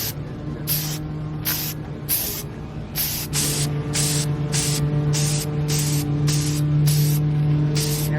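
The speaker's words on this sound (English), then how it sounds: "So our air filter is dry, ready for the oil." Repeated loud hissing bursts of oil spray hit a dry diesel engine air filter, about a dozen short sprays in a steady rhythm over a constant low hum.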